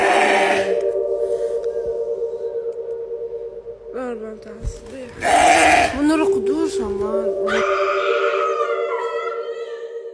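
A black goat bleats in several drawn-out, wavering cries amid eerie background tones, with a voice speaking over parts of it.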